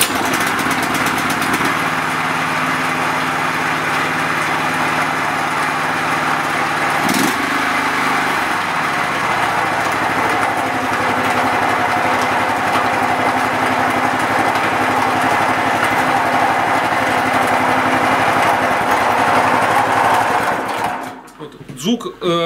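A Shtenli 1900 walk-behind tractor with a gearbox fault starts, and its small engine runs with a loud, buzzing, steady drone close by, its pitch shifting partway through before cutting off abruptly near the end.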